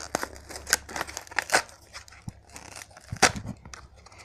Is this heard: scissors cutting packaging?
yes